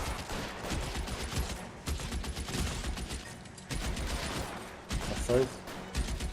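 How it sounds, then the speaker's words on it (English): Gunfire crackles in the video game L.A. Noire, dense rapid bursts of shots forming a sustained exchange across the clip, with brief pauses and a few voices speaking over it. "Lay down some covering fire."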